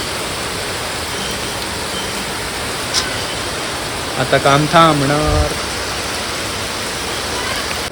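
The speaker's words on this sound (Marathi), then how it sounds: "आणि पाऊस बघा चालू झाला." Steady rain hisses throughout, with a brief spoken remark partway through.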